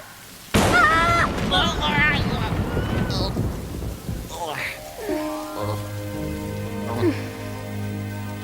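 A thunderclap during a rainstorm in the Stitch animated series cracks loudly and suddenly, then rumbles under animated characters talking, with music rising afterward.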